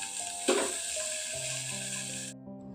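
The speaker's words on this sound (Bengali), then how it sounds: "একটা ঢাকনা দিয়ে ঢেকে এগুলো কিছুক্ষণ সময়ের জন্য 2-3 মিনিটের জন্য একটু ভেজে নেবো" Flat beans frying in a covered pan give a steady, close hiss of sizzling oil that cuts off abruptly near the end, with a soft clatter of the lid or utensil at the start and a low background hum.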